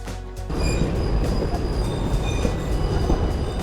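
Darjeeling Himalayan toy train running on a zigzag mountain track that criss-crosses the road, a steady loud rolling rumble of wheels and carriages with faint squeals, continuous throughout with no talk.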